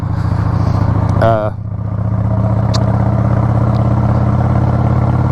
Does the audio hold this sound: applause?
no